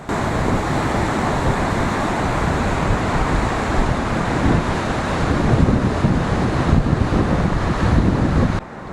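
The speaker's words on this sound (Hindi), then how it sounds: "नदी का बहाव बहुत ही ज़्यादा।" The Sutlej river flowing strongly through Khab in the Spiti valley of Himachal, a loud, dense, continuous roar of rushing water mixed with wind buffeting the microphone, steady for the whole stretch with no voices.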